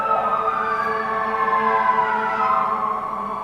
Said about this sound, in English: I'm so sorry for these sirens. I live in the middle of a city and my window's open.